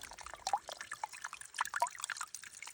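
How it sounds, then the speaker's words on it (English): A small waterfall trickles down a spring along a hiking path, making close, steady dripping and bubbling water with bright, irregular splashes. "And then you have this like little waterfall"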